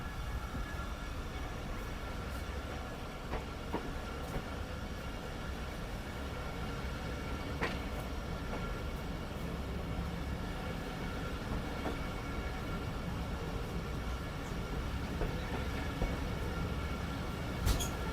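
A train pulling out of a station near the Afghan–Pakistan border, with a steady, continuous rumble of rolling railcars close by and faint creaks and clanks over it.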